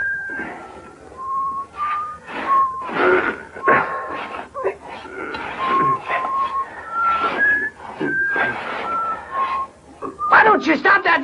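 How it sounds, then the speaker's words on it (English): A man whistles a wavering tune in clear sustained notes, up close and loud, with short breaks between phrases and rough noises between them, in a Western film scene. "Don't you stop that damn whistling!"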